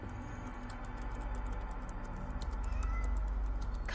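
A cat in a scene from the film Morbius gives a short, faint meow over a dense, steady rumble of background noise and light ticking.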